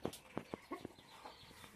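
Guinea fowl clucking in a short burst of several sharp, quick calls, faint and somewhat distant, with no one talking.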